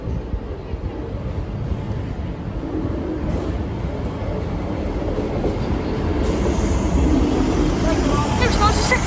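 Refurbished train 158783 rolls past a level crossing, a steady loud rumble of wheels and carriages that grows slightly toward the end, with some speech faintly underneath.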